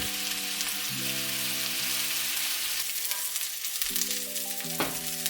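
Danish frikadeller meatballs fry in a pan with a constant crackling sizzle. Faint tonal hums step up and down underneath, and nobody speaks.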